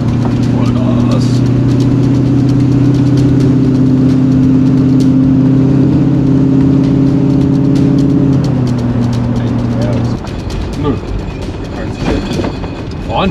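A Chevy K5 Blazer engine at full throttle, a loud droning roar with a steady low pitch that holds and then drops off, heard from inside the moving vehicle over road rumble, with people talking.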